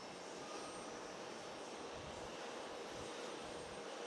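Jet airliner at JFK International Airport, heard as a steady, broad roar of engine noise that stays faint and distant throughout, with no voices.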